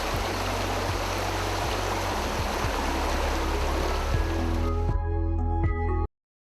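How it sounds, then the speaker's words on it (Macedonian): The Plakjenska river flows past near the village of Rechica, a close, continuous rushing and gurgling of water that fills the clip until it stops abruptly, with faint background tones and no voices. "овде покрај мене што течите Плаќенската река"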